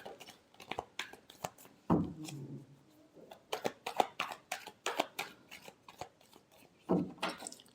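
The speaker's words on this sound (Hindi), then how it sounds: "Last shuffle." Tarot cards being shuffled by hand close up, in quiet, quick bursts of riffling and sliding with short pauses between them.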